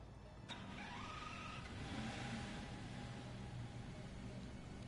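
A Ferrari engine in the Driveclub racing game on PSVR, a faint, steady engine drone with a revving pitch that climbs and then holds, heard alone without voices.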